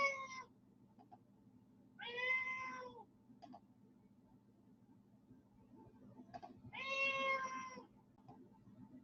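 A cat with a broken leg lets out three loud, drawn-out screaming meows indoors, spaced a few seconds apart over a low steady hum.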